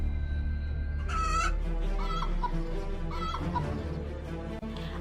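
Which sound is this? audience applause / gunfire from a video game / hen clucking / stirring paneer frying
hen clucking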